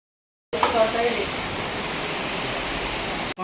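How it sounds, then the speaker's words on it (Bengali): Rain falls outside as a steady, even hiss that starts suddenly and holds at a constant level, with no clear voices. "এদিকে বৃষ্টিও হচ্ছে"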